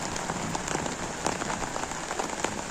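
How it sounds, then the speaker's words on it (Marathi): Heavy first-of-season rain falls on a village courtyard in Devgad partly covered with laid-out sheeting, a dense, steady patter with sharper individual drops popping through, close and continuous with no talking. "आणि पाऊस बघा काय जोरात लागता."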